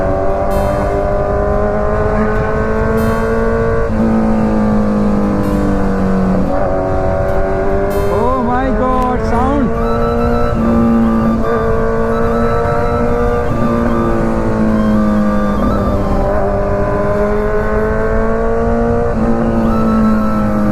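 Kawasaki Z900 motorcycle exhaust, engine held at a steady loud drone with repeated rises and falls in pitch as the throttle is blipped, close to the pipe, with no talk.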